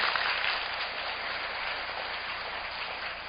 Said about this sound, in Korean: 다시 한번 멘토님께 큰 박수 부탁드리겠습니다